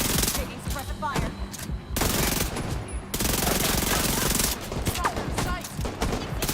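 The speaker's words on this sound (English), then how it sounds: "Taking suppressive fire." Sustained automatic gunfire and rapid bursts in The Division 2, loud and dense throughout, with brief game voice callouts mixed in.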